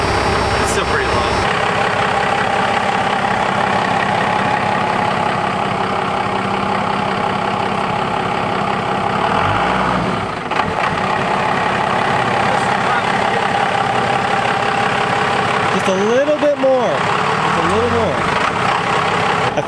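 A Cummins diesel engine with a new 6-speed idles at about 650 RPM, a loud steady low rumble that continues throughout, with people talking over it now and then.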